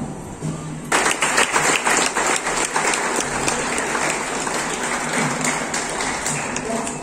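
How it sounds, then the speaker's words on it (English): A school summer camp audience bursts into loud, sustained applause after a quiet opening, with many hands clapping densely and steadily until the end. "So please give them a big round of applause."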